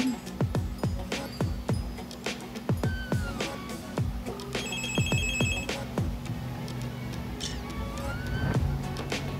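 A telephone connected to the phone line of a Huawei H153-381 PLDT Home WiFi 5G+ router rings faintly. A short electronic ring burst sounds over a background of clicks and low hum.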